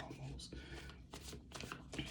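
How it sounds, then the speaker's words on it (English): Tarot cards are shuffled by hand in quick riffling bursts, close and soft, repeating several times over a couple of seconds. "I'm going to shuffle them just a little bit more"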